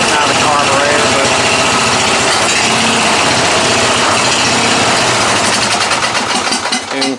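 An MTD Yard Man riding mower with a 14.5 hp Briggs & Stratton engine runs loud and close, a steady, buzzy drone with slight carburetor spitting that holds throughout and eases a little at the very end.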